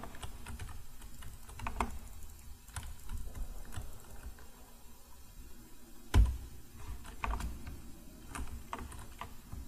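Keys clatter on a computer keyboard during Paint The Town Red play, a run of soft, scattered clicks and taps close by with one sharper knock partway through.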